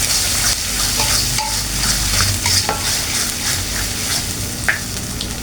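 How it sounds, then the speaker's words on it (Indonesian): An egg is scrambled into spice paste frying in a pan, giving a loud steady sizzle with scraping stirs and occasional clinks of the utensil, and no one talks. "kita pecahkan 1 butir telur, dan kita orak-arik telurnya"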